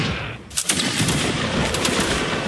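Volleys of musket fire in a Napoleonic Wars line battle game, a dense crackle of overlapping shots starting abruptly and continuing loud and steady, with sharp individual reports standing out.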